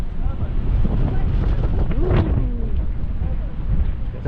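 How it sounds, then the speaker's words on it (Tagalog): Strong spring wind buffets the microphone outdoors in rough, loud gusts that rise and fall for several seconds. "Lakas ng hangin."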